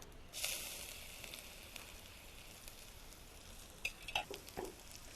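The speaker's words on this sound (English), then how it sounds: "I'm going to saute these spices a little bit" Cumin seeds, chopped chili and ginger sauté in a pan with a soft, steady sizzle, a few brief stirring clatters near the end.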